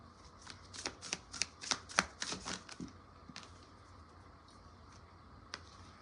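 Tarot cards being shuffled and riffled in a quick burst of crisp flutters and snaps over the first three seconds, then one lone flick near the end in a quiet room.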